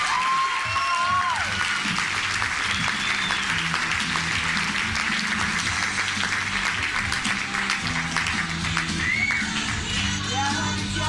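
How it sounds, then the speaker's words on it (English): A comedy club audience claps steadily and loudly for a stand-up comedian, the applause filling the whole stretch without letting up. "let's welcome him out with a round of applause."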